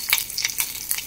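Mustard seeds and curry leaves crackle and sizzle in hot oil as a tempering for besan dhokla. Close, lively popping comes in quick repeated bursts over a continuous frying hiss, with no talking.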